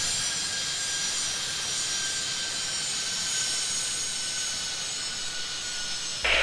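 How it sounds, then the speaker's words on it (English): Learjet coming in to land in Tower Sim 3, a steady high jet engine whine with a broad roar, constant and fairly loud, cut off abruptly at the end. "Oh, that Learjet's coming in."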